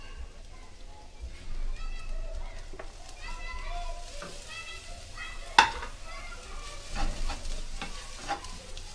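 Eggs fry in a pan as chili peppers are added, giving a steady close sizzle with stirring scrapes and a sharp clank midway, with a voice faintly present.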